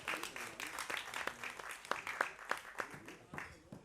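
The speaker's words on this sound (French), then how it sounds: "On peut les applaudir" An audience applauding performers at a small music show, scattered, uneven clapping with distinct individual claps, moderately close, with faint voices underneath.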